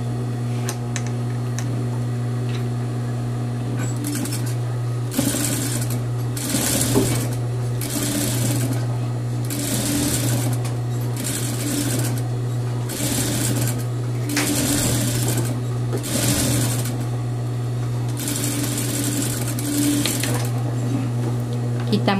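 A sewing machine runs in repeated bursts as it stitches a seam on a short jumpsuit, each run lasting about a second with brief pauses between, steady and close, over a constant low electrical hum.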